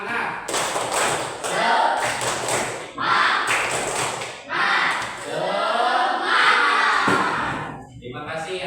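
A classroom of schoolchildren does a rhythmic spirit clap in unison, quick clapped patterns broken by short pauses, mixed with the children's chanting voices and a teacher leading.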